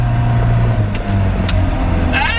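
A drift truck's engine drones loudly up close, revving as gears are floated without a clutch, with a deep steady rumble and a short rising whine at the end.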